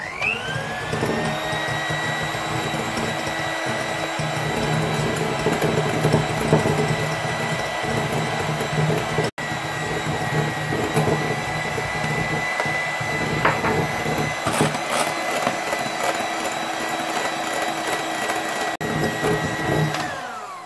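An electric mixer whisks egg whites as icing sugar goes in for meringue, its motor a loud steady whine that runs nearly continuously and shifts pitch slightly with the speed, with one brief cutout midway.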